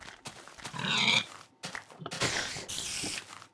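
Pigs grunting in a survival video game, a run of short low grunts and snorts close by with brief gaps between them, no talking over them.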